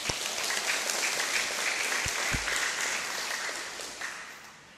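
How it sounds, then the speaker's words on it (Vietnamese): A congregation at a Catholic Sunday Mass claps in a sustained round of applause, dense and fairly even with a few sharper individual claps, slowly fading toward the end. "Chúng ta thể hiện cái tâm tình đó bằng tràng pháo tay."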